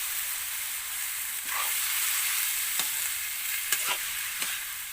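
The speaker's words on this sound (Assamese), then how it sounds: "এনেকৈ ভাজি ল'ব অকণমান" Pointed gourd and lentils frying in a pan, a steady sizzle with a few sharp stirring scrapes and clicks rising above it, close and moderately loud.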